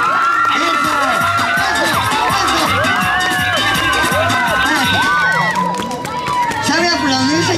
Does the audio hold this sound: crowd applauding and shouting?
yes